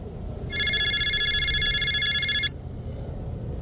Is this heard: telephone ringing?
yes